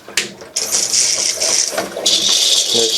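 Water gushes from a shower faucet in a Winnebago Class A diesel motorhome being winterized, a loud hissing spray that starts abruptly, dips, then surges again with a few faint clicks.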